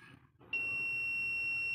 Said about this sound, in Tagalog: Tumunog pa rin siya guys. Sa buzzer mode naman yan ha.